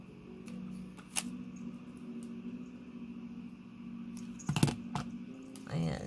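A white edge is trimmed off a sticker with a few crisp, quiet snips and clicks spread over a low steady hum.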